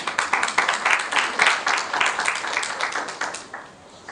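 Audience applauding the speaker Sherief at the close of a talk, a dense, steady wash of many hands clapping that carries on for several seconds and eases off slightly toward the end.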